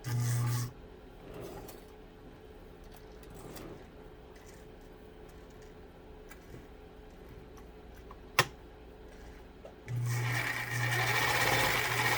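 A Pfaff 230 sewing machine runs in two short bursts, a steady motor whir at the start and end, with quiet handling, rubbing and a single sharp click in between.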